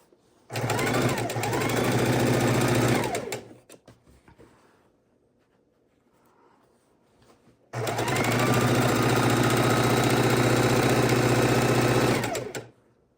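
A sewing machine stitching a quilt border made from precut strips with cornerstones: two loud, steady bursts of rapid mechanical stitching, separated by a few seconds of quiet handling of fabric.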